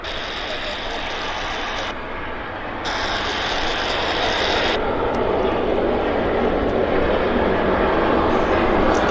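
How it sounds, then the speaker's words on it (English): A Convair airliner with Allison turboprop engines taxis at Vancouver airport, its steady broadband engine roar loud and continuous, with a brief shift in the high whine partway through. "We've got Allison engine sound here."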